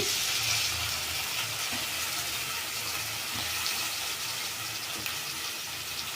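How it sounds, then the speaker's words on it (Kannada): Sliced ridge gourd drops into a pan of fried onions and sizzles with a steady, fairly soft hiss that stays even throughout. "ಇಲ್ಲಿ ಈರುಳ್ಳಿ ಫ್ರೈ ಆಗಿದೆ ಹೀರೆಕಾಯಿ ಹಾಕೊಳ್ತಾ ಇದ್ದೀನಿ"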